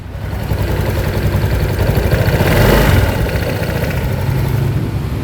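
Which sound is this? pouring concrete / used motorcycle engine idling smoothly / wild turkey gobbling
used motorcycle engine idling smoothly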